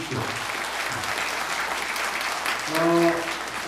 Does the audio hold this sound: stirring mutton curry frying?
no